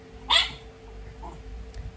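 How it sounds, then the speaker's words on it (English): A single sharp, close dog bark or yip breaks out briefly at a house around feeding time, followed by faint quiet background with no talking. "they are going to bark."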